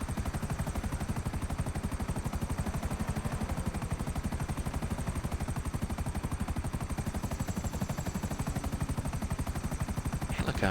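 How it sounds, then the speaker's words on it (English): Helicopter in Grand Theft Auto Online flying sluggishly, a loud, steady rotor chop with fast rhythmic thudding and a continuous engine whine lasting throughout, close and unbroken. "Helicopter seems a little bit sluggish."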